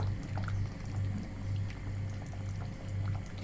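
A mix of olive and vegetable oil is poured over chicken in a pot, a soft, continuous liquid trickle with a low background hum, quiet and close.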